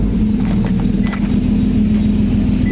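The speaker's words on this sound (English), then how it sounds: "Now I'm gonna start it up and put the car in gear and let it roll" An Infiniti G35 coupe engine idles steadily close by, a constant low rumble with a faint hum throughout and no voices.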